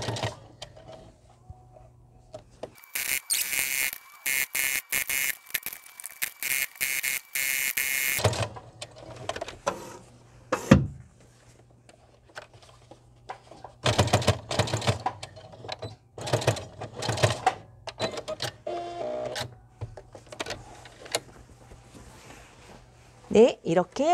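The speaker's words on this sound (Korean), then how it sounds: "겉에다가 눌러서 재봉을 해주실게요." Sewing machine topstitching the outer seam of a fabric bonnet hat, in repeated bursts of steady whirring stitching separated by short pauses, with speech between the runs.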